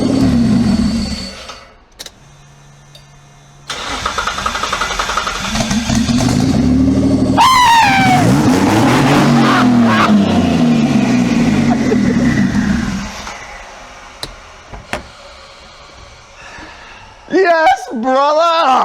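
A twin-turbo Mitsubishi Triton pickup engine starts and revs hard to 6500 RPM, with a loud, close rising howl and sustained roar before dropping back to idle, while people talk and shout around it.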